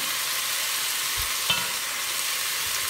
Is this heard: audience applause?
no